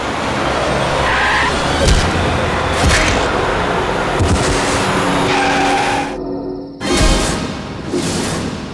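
A car skids hard with loud, sustained tyre squeal, broken by a brief silence and then another burst of screeching, close and dominant with no talk.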